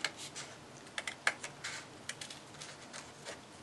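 Scissors snip through paper to cut out a heart shape for a heart suncatcher, a close, irregular series of short crisp clicks with no voices.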